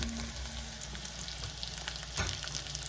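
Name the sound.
onions frying in a pan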